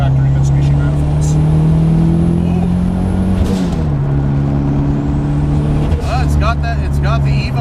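Turbocharged Mitsubishi Galant VR4 with a Full-Race FP3065 turbo bolted to the factory manifolds, its engine droning loud and steady up close with a shift in pitch midway, and voices briefly cutting in near the end.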